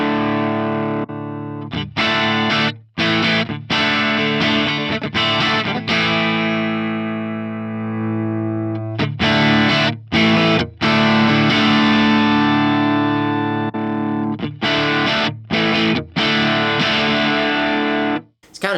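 Distorted electric guitar lead played through a Bludotone Ojai amp model on an Axe-Fx III with no reverb, sustained harmonic-rich notes and bends broken by short gaps, loud and close with no talking.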